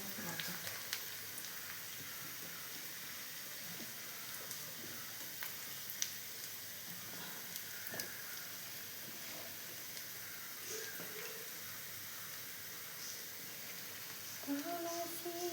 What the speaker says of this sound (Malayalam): ഉള്ളി നല്ലോണം ചോന്ന് വരുമ്പം നമുക്ക് കറിവേപ്പില ഇട്ട് കൊടുക്കാം